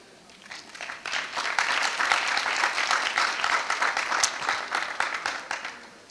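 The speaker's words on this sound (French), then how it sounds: "Chers récipiendaires, applaudissez-les." Crowd applause for graduates at a school graduation ceremony, building quickly from quiet into sustained, dense clapping by many people before tapering off at the end.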